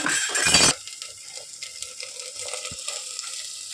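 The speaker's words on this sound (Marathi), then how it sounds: "ही कांद्याची जी ग्रेव्ही आहे ती छान परतून झाली तेल सुटलं आता आपण याच्यात घालूया भाज्या" Vegetables dropped into onion gravy frying in oil, starting with a loud burst of crackling sizzle that quickly settles into a quieter, steady sizzle with light clinks and stirring.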